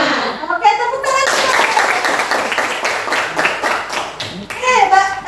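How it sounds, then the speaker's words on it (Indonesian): A group of children clap their hands in a classroom, the claps rapid and close. Children's and an adult's voices are heard briefly before and after the clapping. "tepuk tangan"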